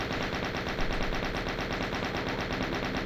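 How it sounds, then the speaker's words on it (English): Chain gun in the classic Doom video game firing nonstop at Mancubus demons, a loud, steady rapid stream of punchy gunshots filling the whole stretch with no talking. "Just taking a second to use the chain gun against these Mancubus."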